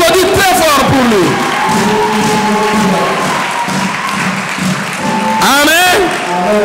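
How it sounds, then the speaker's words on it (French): An audience at a church gathering claps and cheers loudly, a sustained wash of applause under an amplified voice speaking over it, rising again at the end. "On applaudit très fort pour lui."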